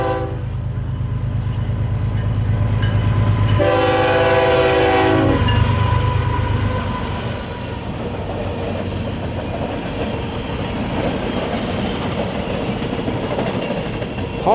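BNSF westbound manifest freight train passing through cornfields west of Chicago: a loud multi-tone horn blast for several seconds, then continuous rolling rumble and wheel clatter of the cars going by close at hand.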